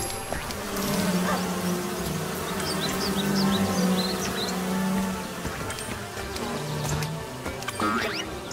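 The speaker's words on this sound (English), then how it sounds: "Quick. Wave those bees out of here!" Bees buzzing in the Disneyland Adventures video game, a steady swarm drone with pitch wobbling up and down and light chirping effects over it, with no voices.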